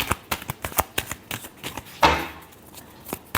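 Tarot cards being shuffled by hand, a quick run of crisp riffling flutters and taps close up, ending in one louder snap as the deck settles.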